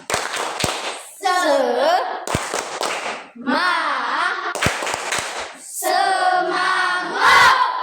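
A group doing tepuk semangat, rhythmic spirit clapping at an ice-breaking session, with sharp bursts of claps alternating with loud chanted voices, close and energetic.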